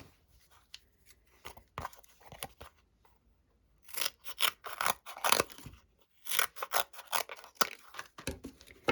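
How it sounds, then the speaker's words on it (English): Scissors cut through a foam adhesive sheet for card crafting, producing close, crisp snipping and crunching strokes in irregular bursts, sparse at first and then denser, with short quiet gaps between. "I'm going to use my foam adhesive sheet. I'm going to cut it down."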